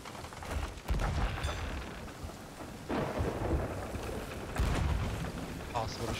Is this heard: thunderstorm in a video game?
yes